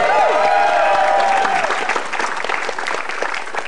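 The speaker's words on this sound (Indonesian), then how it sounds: "Tepuk tangan untuk Jui Purwoto." Applause from a stand-up comedy crowd for comedian Jui Purwoto, already loud at the start and thinning slightly toward the end. A short whistle-like tone rises over the clapping at the start.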